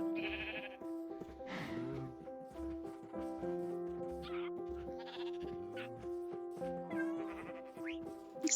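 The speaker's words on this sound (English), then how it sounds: "Found some sheep buddies." Minecraft sheep bleat repeatedly in short wavering calls, several overlapping near and far, alongside soft game background music.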